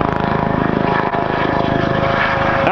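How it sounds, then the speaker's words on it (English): A military aircraft flies overhead with a loud, steady droning engine and propeller roar that holds constant and close, with no voices. "Can you hear that chopper?"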